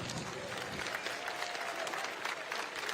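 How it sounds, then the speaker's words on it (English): Steady applause from a crowd at a Korean War Veterans Memorial dedication ceremony, a dense patter of clapping that carries on evenly without a break. "Please give a big round of applause."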